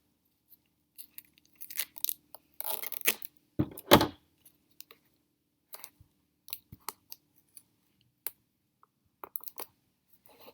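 Grip tape wrapped around a foam boffer short sword is snipped with scissors, a few sharp close clicks and cutting snips scattered among quiet handling sounds in an otherwise silent room.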